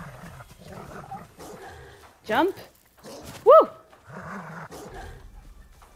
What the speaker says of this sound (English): Oh, that's not a bear. That's a dog.